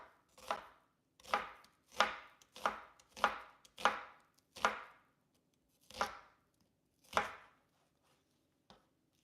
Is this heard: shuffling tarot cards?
no